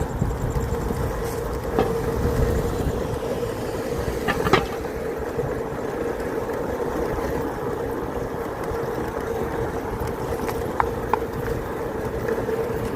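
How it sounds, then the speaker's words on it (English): A continuous rumble of a vehicle rolling along, with a few sharp clunks and bumps as it crosses over rail tracks. "You get to go over train tracks."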